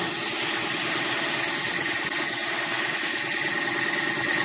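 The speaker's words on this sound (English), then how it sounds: "You're going to want to use this sander, which is going to be smoothing it as well" Electric sander whirring continuously while smoothing a wooden bowl, a steady, dense mechanical hum with a bright, hissy edge throughout, close and alone with no talk.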